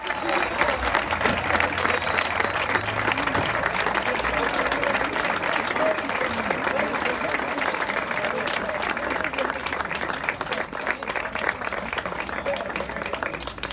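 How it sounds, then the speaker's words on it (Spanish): Sustained audience applause fills the air at a street performance awards ceremony at the Cosquín 2022 festival, steady dense clapping throughout with a presenter's voice running underneath. "Así que redoblamos el aplauso porque se lo merecen."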